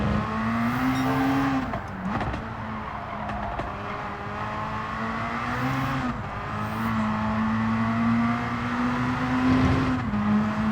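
A race car engine in Gran Turismo 7 held in third gear, a steady loud drone that rises and dips with throttle, with brief gear or lift-off breaks near two, six and ten seconds.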